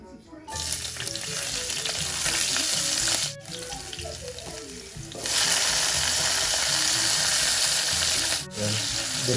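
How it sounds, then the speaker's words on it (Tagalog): Vegetables and aromatics sauté in a hot pan for sinigang on a rainy day, with a loud continuous sizzle, clattering stirring, and brief breaks where the frying dips before surging again. "igisa lang natin dito sa ating aromatics"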